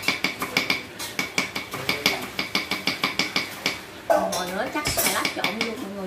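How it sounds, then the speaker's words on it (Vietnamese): A small, very sharp knife chops shallots on a board for a Vietnamese bún riêu meal. About fifteen quick, even knocks come close and steady, then give way to louder mixed kitchen clatter in the last two seconds. "con dao phải thiệt bé để sắc cho rau nó thiệt là nhuyễn đoạn này sắc hành trước đã"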